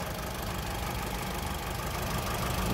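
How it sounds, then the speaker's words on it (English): The 2-liter four-cylinder engine of a 2011 Mitsubishi Outlander Sport runs at a steady idle, a constant close rumble with no talk over it. "Under the hood, you got a 2-liter four-cylinder"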